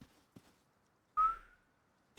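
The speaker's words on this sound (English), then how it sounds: "Just doing a stupid whistle sound as I slowly pan around." A person whistles one short rising note while playing Rust. It is fairly clear and close, follows a couple of faint taps, and has no talk around it.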